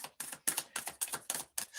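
Tarot cards are shuffled in quick, crisp bursts, a run of about seven sharp riffling flutters in a steady rhythm, close and clear with no talk.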